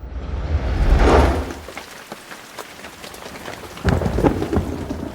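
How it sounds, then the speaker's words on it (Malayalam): Steady rain falls close by while thunder rumbles in two heavy swells, one early and one near the end, with no voices over the downpour. "മഴ മഴ എല്ലാവർക്കും ഭയങ്കര ഇഷ്ടമാണ്"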